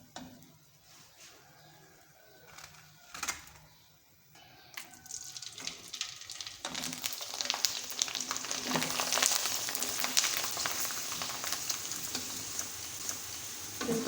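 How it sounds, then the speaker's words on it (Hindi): Rice flour papads drop into hot oil and fry, a quiet start with a few clicks giving way to a loud, dense, crackling sizzle that holds steady to the end. "ये बहुत आसानी से फ्राई हो जाएंगे, इनको ज़्यादा देर ऑयल में नहीं रखना पड़ता"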